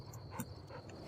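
A dog in the video game Fallout New Vegas makes a short, faint whimper or yip over a quiet game-sound background.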